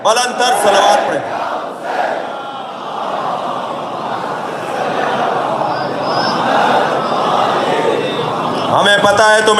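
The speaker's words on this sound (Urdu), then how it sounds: "بلند تر صلوات پڑھیں۔" Large crowd at a religious gathering loudly chanting salawat in unison, a swelling roar of many voices rising and falling, with a single voice speaking over it at the start and end.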